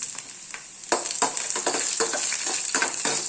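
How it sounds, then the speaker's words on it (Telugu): Urad dal, cumin seeds and two dried red chillies crackle and sizzle in hot oil up close, with irregular bursts of stirring and spattering over a steady frying hiss. "మినపప్పు జీలకర్ర రెండు ఎండుమిర్చి పోపు వేసుకోవాలి"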